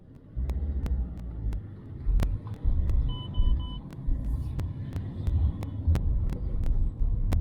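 A Lancia Thesis engine, recently refuelled after sitting under a tree, idles with a steady low rumble and throb, close and continuous, with sharp clicks and ticks over the top.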